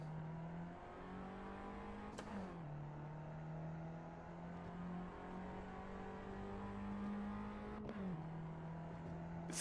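A race car engine in a racing video game holds a steady high drone, with brief sharp shifts around two and eight seconds as the pitch drops, fairly faint and with no talk.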